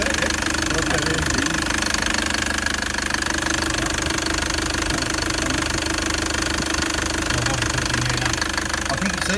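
A diesel engine with a failing injector runs rough and knocks, its uneven firing stuttering steadily throughout at close range with a dense mechanical clatter.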